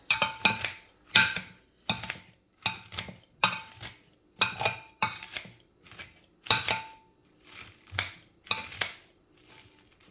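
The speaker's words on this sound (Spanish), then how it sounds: "Los picamos con la tijera. Recogerse una tijera buena, porque el brócoli está duro." Scissors snipping through hard broccoli pieces, a steady series of about a dozen crisp, close crunching cuts with short pauses between them, heard alone.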